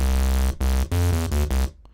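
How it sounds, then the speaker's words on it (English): Harsh, heavily distorted saw wave from a Serum software synthesizer, with noise compressed before the distortion, playing a few loud sustained low notes with brief gaps, ending in a fading tail. "I'm compressing the noise with the saw wave before the distortion."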